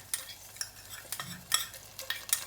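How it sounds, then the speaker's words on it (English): Ginger garlic paste fries in a pan for pish pash rice, with a faint sizzle broken by sharp scraping strokes of a spoon stirring every half second or so. "You need to fry this for around a few seconds only"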